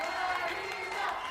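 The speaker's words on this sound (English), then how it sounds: "You can hear the crowd roar." A concert crowd roars and cheers as a performer jumps onstage at El Farallón, a steady, dense wash of voices and whoops that stays loud and unbroken throughout.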